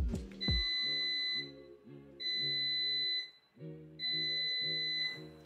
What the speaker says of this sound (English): your air fryer will beep 3 times.